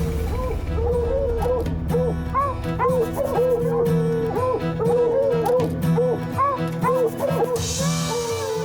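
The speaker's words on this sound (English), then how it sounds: "That's what them dogs are going crazy about." A pack of hunting dogs barks and yips steadily at a cougar up a tree in the Rocky Mountains, many close, loud voices layered in a continuous frantic chorus.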